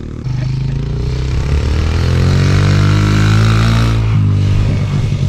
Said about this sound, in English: The Lil's just ripping it up, getting some practice in on the DRZ